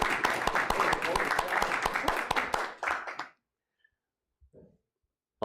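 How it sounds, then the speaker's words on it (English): Applause and clapping from a council meeting audience during a vote, a dense burst of many hands lasting about three seconds before stopping abruptly, followed by near silence with a brief faint sound. "clapping does not constitute a vote"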